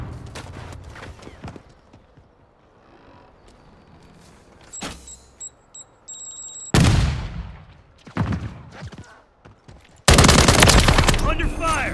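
Gunfire in the Black Ops 6 beta: scattered shots early, then loud sharp bursts and sustained rapid automatic fire toward the end, with a brief beeping tone in between.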